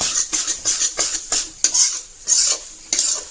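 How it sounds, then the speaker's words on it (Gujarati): A utensil stirs flour in ghee in a pan for traditional pak ladwa, giving steady scraping strokes about twice a second, close and fairly loud, with a faint sizzle underneath and no talking. "જ્યાં સુધી ઘી હાવ છૂટું ના પડી જાય ને ત્યાં સુધી એને હલાવ્યા જ કરવાનું"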